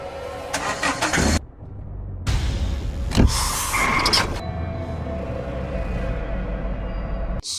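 A car owned by someone else starts up and pulls away, its engine sputtering in bursts with a brief cut to silence, then settling into a steady, fairly close running hum with a sharp clunk midway; no one speaks.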